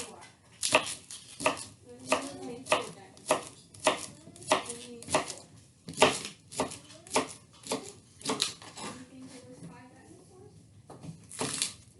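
A knife chops two green onions on a board in steady, sharp strokes, about twenty close, crisp hits in an even rhythm, with a voice at times in the background.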